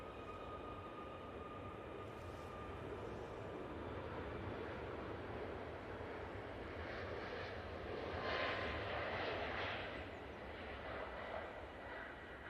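A passenger airplane landing on the runway at Manchester Airport, a steady broadband engine roar heard from a distance that swells slightly toward the end, with no talk.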